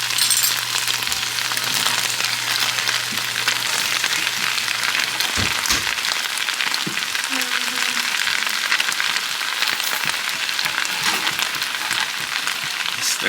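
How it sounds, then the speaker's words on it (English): Vegetables for a Cambodian chicken lemongrass stir fry sizzle steadily in a hot pan, a continuous bright frying hiss broken by a few clinks of a utensil against the pan, with no talking. "Now we throw in all the vegetables."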